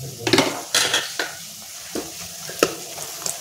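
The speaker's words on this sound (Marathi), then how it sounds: "थोडंसं असं परतायचं" Onion sautés in oil with turmeric and red chili while a utensil repeatedly scrapes and clatters against the pan, sharp stirring strikes spaced irregularly over a low sizzle.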